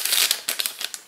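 Paper packaging around a wooden toothbrush made of wood and natural fibres is handled up close, giving a quick run of dry crinkles and rustles with no voices.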